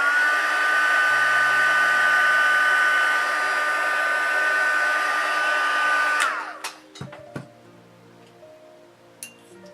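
A hair dryer blows steadily and loudly for about six seconds while heat-setting blush makeup on a face, then cuts off, leaving faint clicks and small handling taps.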